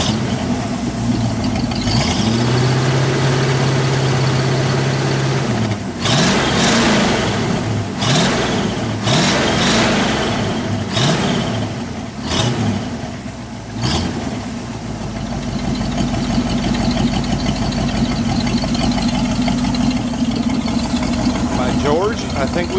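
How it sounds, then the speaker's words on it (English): An International Travelall's engine runs steadily, picking up fuel from a tank, with a few sharp revs partway through and a low idle rumble continuing beneath people talking. "Alright, it's running, and if it don't quit here in a second, we'll know it's picking up fuel from that tank."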